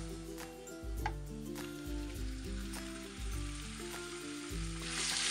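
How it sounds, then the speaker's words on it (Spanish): Chicken pieces frying with golden onion in a pan for Asian-style orange chicken, a moderate sizzle over a low tonal hum with occasional light clinks, fairly quiet and without talk. "Y sofreiremos un par de minutos hasta que esté dorado."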